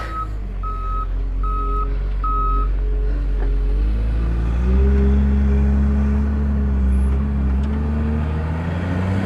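A JCB 416 loader at a maize silage pit gives three evenly spaced reversing beeps over a heavy diesel engine rumble, which then revs and grinds on steadily.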